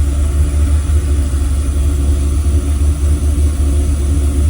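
A car engine idling steadily after startup at around 1,000 RPM with no throttle, a constant low hum that stays even throughout, close and alone.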